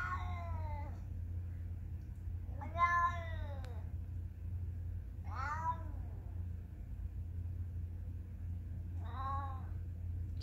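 A house cat meows four times in long, drawn-out wails spaced a few seconds apart, close and fairly quiet over a low background hum.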